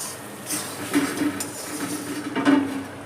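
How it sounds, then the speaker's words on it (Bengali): A metal pot lid clinks as it is set down and lifted off a pot of chicken curry, two or three bright ringing knocks over a faint kitchen background. "আবার আমি ঢাকা দিয়ে দিলাম, আবারও একবার ঢাকাটা খুললাম।"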